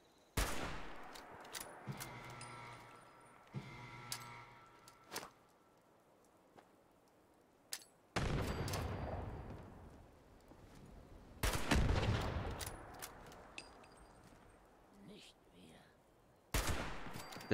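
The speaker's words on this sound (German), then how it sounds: "Das Bumm ist schön von den Granaten." Several booming grenade explosions in Fallout 76 burst out one after another with long rumbling tails, loud and close, separated by quieter stretches of game noise.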